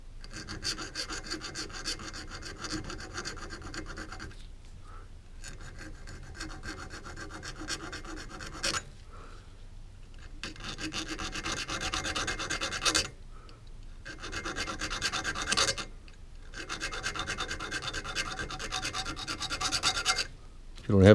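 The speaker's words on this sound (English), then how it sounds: "If you don't have a Dremel, this is what you'd use, the files." Hand file, likely triangular, rasping over the spine lock bar of a Buck 110 or Uncle Henry folding knife, in steady back-and-forth strokes broken by a few short pauses, close and fairly loud.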